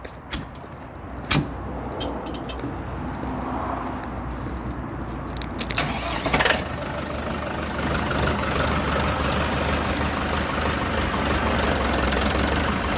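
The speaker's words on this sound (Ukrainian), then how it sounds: "Чотирьохциліндровий дизельний двигун." A four-cylinder diesel Lovol 504 tractor engine idles with a steady low rumble, a couple of sharp knocks and clanks early on, then a slightly louder, even drone.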